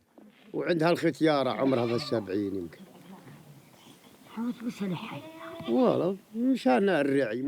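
Goats near a village at Petra in Jordan bleat in several quavering bursts, loud and close, with short pauses between the calls.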